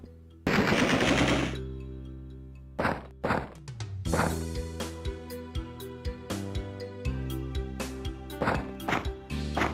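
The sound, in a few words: shotgun gunfire in the video game Alone in the Dark 2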